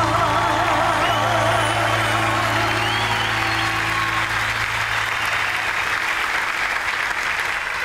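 An audience breaks into loud, sustained applause that interrupts a song at a concert, a dense wash of clapping with music fading underneath.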